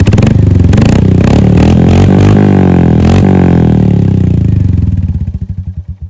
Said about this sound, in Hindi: फर्स्ट गियर में हमने बाइक स्टार्ट की और आवाज़ आ रही है कुछ ऐसी